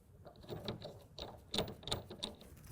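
Clamp on a BAKFlip MX4 hard folding tonneau cover being tightened on a Mitsubishi Triton bed, giving quiet close mechanical ratcheting clicks in a quick repeated rhythm.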